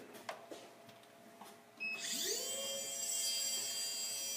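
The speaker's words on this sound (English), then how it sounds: "So I'm going to take my grinder." Power grinder taking white marks off a surface, spinning up after a few faint knocks and then whining steadily at close range for the rest of the moment.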